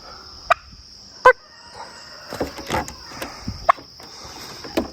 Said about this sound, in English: You're the mouthiest turkey, I will give you that.